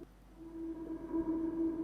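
A single sustained synth note, rendered with a 100% wet reverb tail, hums steadily with a washed-out, reverberant quality, holding evenly without a clear attack.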